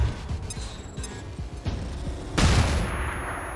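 A flashbang grenade goes off in the video game XCOM 2, a sudden loud burst with a wash of bright noise after a run of sharp in-game impacts and clatter.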